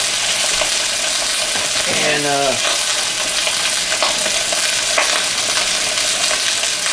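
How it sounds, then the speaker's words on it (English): Unseasoned chicken thigh meat sizzling steadily in a frying pan, a loud continuous hiss and crackle close up, with brief clinks of utensils and a few quiet spoken words over it. "that's sizzling up good right there."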